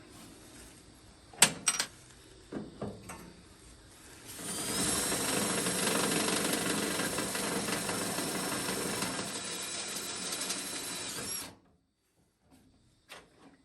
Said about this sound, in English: Go through the first one, drill through the second one, and stop.